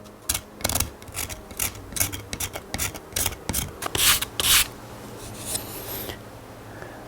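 A hand tool rasps and scrapes at a traditional lacquer brush, smoothing rough knife cuts on its tip, in a series of close, dry rubbing strokes that come in short bursts and then fade.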